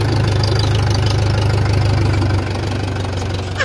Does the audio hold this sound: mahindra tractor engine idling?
yes